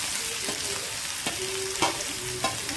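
Sliced onion sizzles as it goes into a pan of frying green chilli and bitter gourd, a loud steady crackle with a few stirring scrapes, close by.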